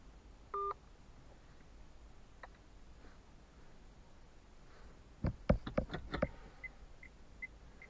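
One short, clear telephone dialing tone sounds near the start, followed by quiet tapping and a burst of close clicks and knocks from handling the phone.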